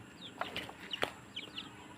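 Ducks on a rural farm pond call in short, nasal bursts, several quick quacks spread irregularly across a moment, moderately close over faint background noise.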